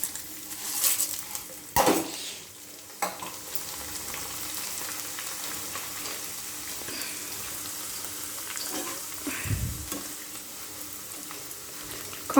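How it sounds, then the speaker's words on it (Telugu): Cornflakes frying in oil while being stirred, a steady soft sizzle with occasional scrapes and clinks of a utensil against the pan. "ఇప్పుడు కార్న్ఫ్లెక్స్ వేయించుకోవాలి. కార్న్ఫ్లెక్స్ ఈజీగా వేగిపోతాయి"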